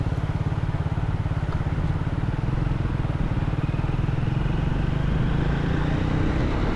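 A Speed 400 motorcycle cruises at 80 to 120 in sixth gear, its engine a steady, continuous drone with wind rush. It is close and loud, with no talk.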